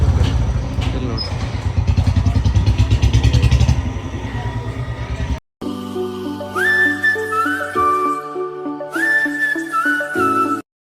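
A modified motorcycle fitted with a new wiring kit and carburetor revs loudly and roughly for several seconds, then cuts out abruptly, followed by a sharp whistling melody with rising tones.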